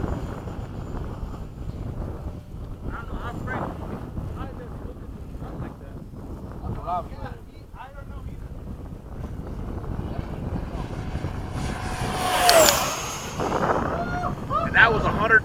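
An F-5 jet takes off on a demo flight, its engine a continuous roar heard through heavy wind buffeting that builds to a louder surge near the end, with people talking over it.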